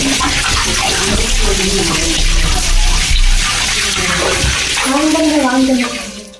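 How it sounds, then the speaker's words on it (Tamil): Water is poured over a floating stone, a loud splashing, gurgling pour that runs without pause and tapers off near the end, with faint voices mixed in. "தண்ணி ஊற்றியாச்சு, பாறை மிதக்குது."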